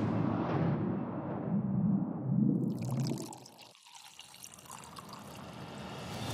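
Freshly boiled water poured from a kettle into a glass over loose black tea, a continuous close splashing pour that thins to a trickle and then stops, followed by quieter dripping and clinking.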